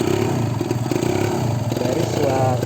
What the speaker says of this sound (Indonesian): untuk 2 tak ini memang suara mesinnya itu tidak halus seperti 4 tak ya